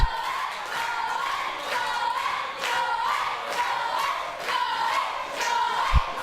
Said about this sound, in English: And as this crowd cheer him on, Legend climbs the ropes